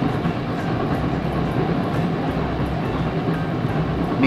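An LRT Line 2 train in Metro Manila runs along the track as a steady, loud rolling rumble with faint rhythmic rail clatter, heard from inside the car with no talk.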